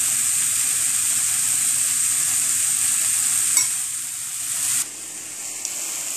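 Sugar caramelizing with apples in a hot pan gives a loud, steady sizzle with bright hiss, briefly disturbed by stirring before settling to a quieter fry.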